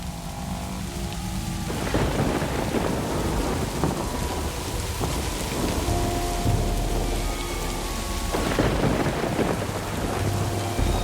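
Heavy downpour with rolling thunder, a dense steady roar of rain on surfaces broken by deep rumbling thunder that swells early and again near the end, no voices.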